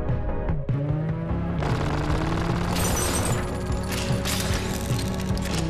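Weapon fire in the VR shooter Runner, a dense stream of layered bursts and mechanical clatter that runs continuously over a busy game soundscape, with no pauses.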